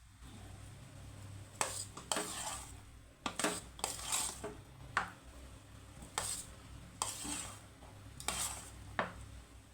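Lemon rice being mixed in a metal pan, with a spoon scraping and knocking against the pan in repeated clinks and scrapes, close and moderately loud, with no talking.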